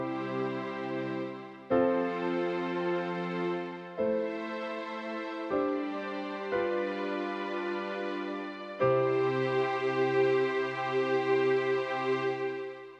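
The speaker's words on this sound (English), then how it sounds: "And we've got a piano voice layered with the strings." Keyboard piano voice layered with mellow strings, a sequence of held chords, each starting with a struck piano attack that gives way to a smooth sustained string pad, quiet and without any talking.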